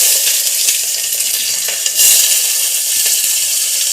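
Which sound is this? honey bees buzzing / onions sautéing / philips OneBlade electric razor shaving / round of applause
onions sautéing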